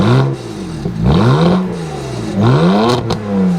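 A tuned BMW 335i E92 coupe with an upgraded twin-turbo engine and a standard-looking exhaust revs three times, each blip rising and falling in pitch, loud and close, dropping back toward idle between revs.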